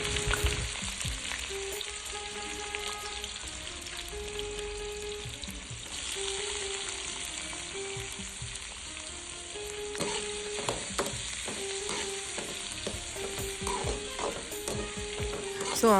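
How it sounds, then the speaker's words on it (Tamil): Sliced onions for onion uthappam sizzle and fry steadily in a hot pan, close up, with occasional stirring and scraping of a utensil against the pan and no voices. "ஸோ ஆனியனை கொஞ்சம் வதக்கிக்கணும்."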